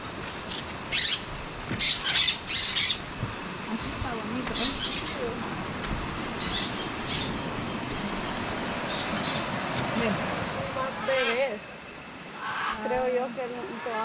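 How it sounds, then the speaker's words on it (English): Jamaican parakeets squawking and chirping at the Copan Ruins in Honduras, repeated harsh calls over a busy outdoor background with people talking. "Jamaican parakeet, cool."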